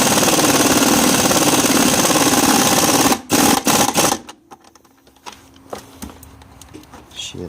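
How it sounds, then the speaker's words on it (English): Power drill boring holes into a Jeep XJ battery box, a loud sustained whir for about three seconds, then several short bursts and fainter intermittent clicks and knocks as the drilling stops. "Let me make 2 more holes and we'll see what we got."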